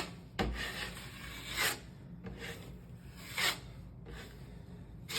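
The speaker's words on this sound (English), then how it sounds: "I will wet sand it." A sheetrock patch is wet sanded by hand, with slow, close rasping strokes that repeat in an uneven rhythm, three or four swells of scrubbing against a quiet background.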